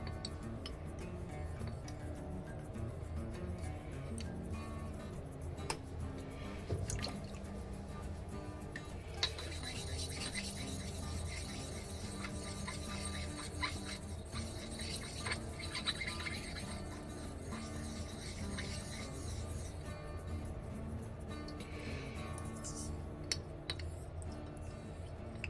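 A JR Torrey straight razor is honed on a Japanese natural stone with slurry, giving faint, steady rubbing and scraping strokes with occasional light ticks in a quiet room.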